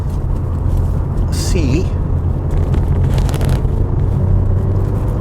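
A Mazda car being driven through a bend after a downshift, with steady loud engine and road rumble underneath and someone talking over it throughout.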